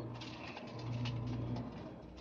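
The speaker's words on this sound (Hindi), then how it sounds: "सारे कबूतर यहाँ पर हैं।" Pigeons in a breeding loft give low, soft cooing, a few rounded coos rising and falling over a faint steady background, with no voices.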